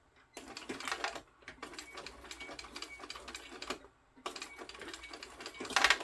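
A sewing machine stitching a row through leather on a backpack, running in a fast rapid chatter, close and clear, in two long bursts with a short pause between them and no talking.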